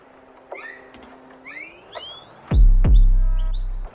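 A bird-sounds sample plays on an Elektron Octatrack track: sparse, close chirps and tweets, then two heavy low thumps that drive the later chirps louder.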